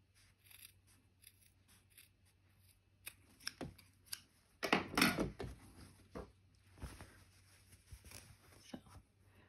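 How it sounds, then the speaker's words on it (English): Scissors snipping excess fabric from a dress placket on a floral sundress, several crisp close cuts with one longer run of snips in the middle, between quieter handling sounds. "we're going to just trim off any excess here"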